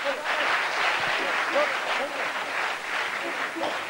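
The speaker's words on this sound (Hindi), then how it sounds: "जोरदार ताली" An audience at an educational talk claps in a diffuse, moderately quiet burst of applause, with a voice speaking over the clapping.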